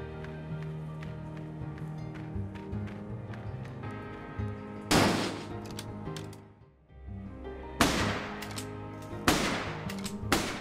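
Ranged weapon fire in the fantasy game Legends of Aethereus, with several sharp loud broadband shots standing out over a steady mechanical, musical game backdrop, spaced a second or two apart.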